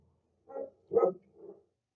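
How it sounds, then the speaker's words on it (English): A dog gives three soft, short woofs in a row, the middle one loudest, in an otherwise quiet room. "So is my dog, Oakley. She's feeling it"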